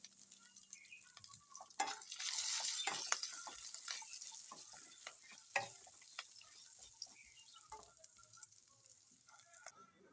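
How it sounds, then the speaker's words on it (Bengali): Chopped ginger is stirred and fried in a pan, giving a soft, close sizzle with repeated scraping strokes of a spatula and a few brief clinks, fairly quiet throughout. "আদাটাকে ভালো করে নেড়ে নেব।"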